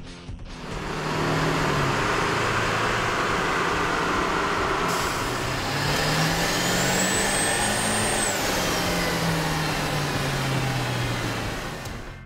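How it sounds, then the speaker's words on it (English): A Ford F350 Super Duty 7.3L diesel fitted with an aftermarket air intake runs on a dyno, a loud continuous engine roar and intake whoosh rising and falling in pitch with a high whine near the end. "we ran the vehicle on the dyno to test the sound comparison versus the stock intake"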